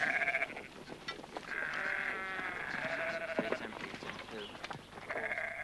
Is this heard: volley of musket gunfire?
no